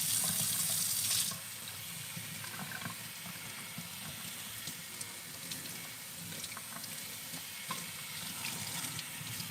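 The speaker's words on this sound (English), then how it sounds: "So let me just rinse this out real quick," Running water pours steadily while deep conditioner is rinsed out of hair, a loud hiss at first that settles into a continuous, even splash with no talking.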